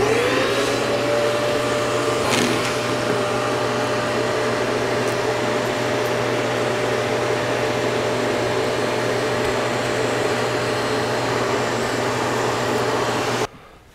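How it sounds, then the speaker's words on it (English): A sander works as a vacuum through a Festool cyclone dust extractor, giving a loud, steady suction roar with a constant hum that holds for about thirteen seconds and then cuts off abruptly. "is to simply use the sander itself as a vacuum"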